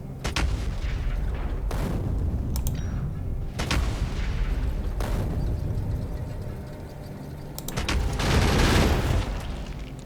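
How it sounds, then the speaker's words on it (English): Artillery fires in the factory-building game Factorio, heavy booming shots landing at irregular intervals over a steady loud rumble of background machinery. "I like the way the little artillery things sort of drop out."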